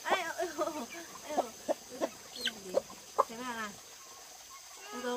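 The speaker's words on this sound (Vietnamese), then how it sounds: "Con gà." Chickens on a rural Vietnamese farm cluck in short repeated bursts, fairly close, with a few higher squawks. Soft voices murmur faintly in the background.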